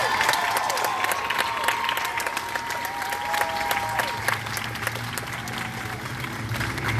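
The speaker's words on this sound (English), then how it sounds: "One more round of applause for our wonderful Black Student Union students." A crowd at an outdoor Black Student Union rally in Arlington claps steadily throughout, with a few cheers rising over the dense, continuous applause.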